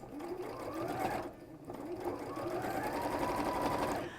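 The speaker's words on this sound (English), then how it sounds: "I'm top stitching about 1 centimetre in." A sewing machine runs close and loud while topstitching fabric about a centimetre from the edge, a steady motor hum with rapid needle chatter that briefly slows around the middle, then resumes at full pace.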